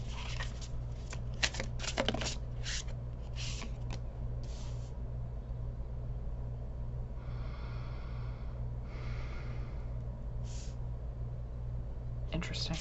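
A deck of tarot cards being shuffled: several short bursts of riffling flutter and slaps, close and fairly quiet, over a steady low hum, with a voice speaking now and then.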